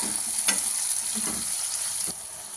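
Onion, green chilli and capsicum stir-fry in a pan for veg noodles, giving a constant hissing sizzle with a few spatula scrapes, close and even.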